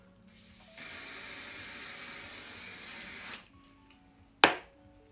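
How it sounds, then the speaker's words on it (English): An aerosol can of hairspray hisses in one steady spray of about two and a half seconds onto freshly curled hair, close and fairly loud. A sharp click or tap follows a second later in an otherwise quiet room. "Now hairspray it."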